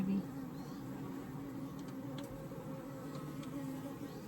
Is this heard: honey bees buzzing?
yes